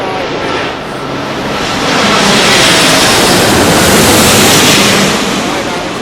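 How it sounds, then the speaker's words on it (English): Virgin Atlantic Airbus A350 airliner arriving from JFK, a loud broad rushing roar that swells and holds in the middle before easing slightly, heavily buffeted by wind noise. "A350 of the day is the Virgin Atlantic from JFK"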